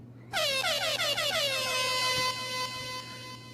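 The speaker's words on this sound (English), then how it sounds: "Air horns." Loud blaring air horns sound alone for about two seconds, bright and harmonic with rapid wavering blasts that settle into a long sustained tone, then fade slightly.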